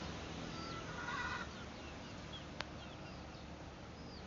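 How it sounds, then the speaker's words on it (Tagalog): Rhode Island Red chicken clucking softly at a short distance, a few low calls over steady outdoor background noise with a brief sharp click. "Ito ang Rhode Island Red."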